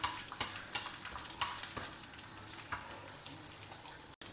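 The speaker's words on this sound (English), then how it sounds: "Add the urad dal and dry red chilies. Stir fry them in the oil." Urad dal and dry red chilies being stir fried in oil, with quiet sizzling under scraping spoon strokes that come every second or so, close by, no talking.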